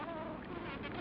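Bumblebees buzz steadily while foraging on flowers, a continuous low droning hum, faint and unbroken through the brief moment.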